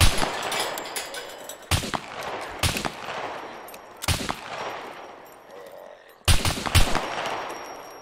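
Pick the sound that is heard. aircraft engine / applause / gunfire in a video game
gunfire in a video game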